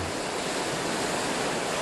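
High, rough sea waves pound the coastal rocks in a steady, loud roar of surf and spray, with wind mixed in and no voices.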